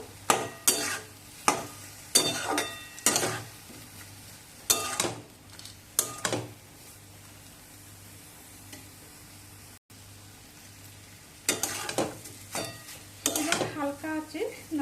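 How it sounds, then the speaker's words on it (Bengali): Green papaya ghonto with garam masala and ghee being stirred in a pan: repeated scraping strokes of a spoon against the pot, loud and close, with a quiet pause in the middle and a faint sizzle underneath. "গরম মশলা আর ঘি এবার সব কিছু ভালো করে মিশিয়ে নেবো"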